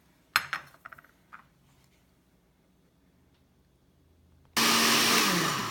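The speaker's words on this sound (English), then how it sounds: "we gave it a good mix with the blender." A blender mixes chili sauce for pozole: a few sharp clatters and clicks come first, then a quiet pause, then the motor roars to life loud and steady for the final second, with no talking.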